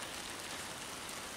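Hail pelting down in a storm, a dense, steady hiss of pattering impacts with no break and no voices, sounding close and moderately loud throughout.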